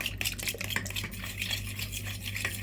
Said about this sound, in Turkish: sıvı haline getirdiğimiz malzemeleri karıştırıyoruz